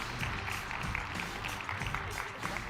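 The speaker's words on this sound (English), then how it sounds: "Please welcome them with a huge round of applause." Conference audience at a 3DEXPERIENCE World simulation session gives steady, fairly distant applause to welcome speakers onto the stage, a continuous wash of clapping with faint crowd noise.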